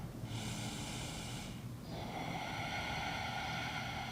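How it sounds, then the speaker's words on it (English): Deep breathing during yoga practice: a long airy inhale followed by a slow, fuller exhale, close and soft with no talking. "Let's take one more breath together."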